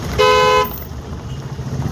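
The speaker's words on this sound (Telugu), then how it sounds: "హార్న్ వాడాలి" A single short car horn blast sounds close and loud in traffic, followed by the low rumble of the idling vehicle.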